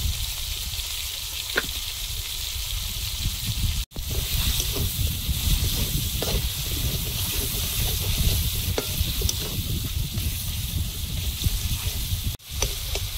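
A tomato spice mix with ginger, salt and cumin powder sizzles and fries steadily in a pan for a Bengali moong dal, heard up close and continuous with faint stirring clicks.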